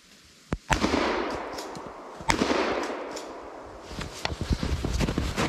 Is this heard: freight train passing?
no